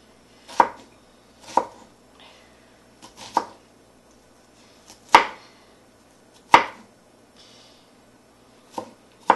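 A knife chops finely through ingredients for keftedes on a board, about seven sharp, isolated strikes spaced irregularly with quiet gaps and faint scraping between them, close and clear.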